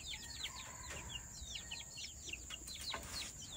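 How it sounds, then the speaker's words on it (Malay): Chickens cluck and chirp in quick, scattered calls inside a chicken coop over steady low barnyard background noise. "Tengok ayam santai."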